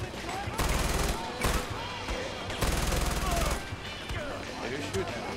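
Gunfire in the video game Far Cry 4 comes in two heavy bursts of rapid automatic shots, separated by quieter gaps, with people talking around them.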